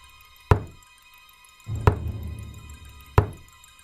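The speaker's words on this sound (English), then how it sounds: "3 slow knocks echoed from the entrance." Three slow, heavy knocks on a store entrance door at night, evenly spaced about a second and a half apart, each a sharp thud with a short resonant decay in an otherwise quiet space.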